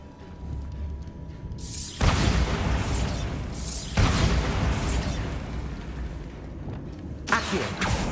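Bombarda blasting spells cast in Hogwarts Legacy, in which three booming explosions with crackling debris and rushing whooshes burst out loud and close in quick succession.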